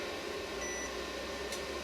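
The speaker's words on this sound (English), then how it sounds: "We're getting a little beep and a blink here." A faint, steady electronic warning beep from an Easun sine wave inverter sounds briefly over a constant mechanical hum, close by, with no one speaking.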